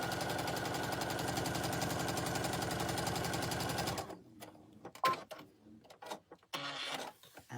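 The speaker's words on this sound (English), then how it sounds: "Pop that under the needle, start stitching" A sewing machine runs in a steady, fast, loud stitching burst while sewing a quilt sashing strip down a long candle block, then stops abruptly, leaving scattered handling clicks and rustles of fabric.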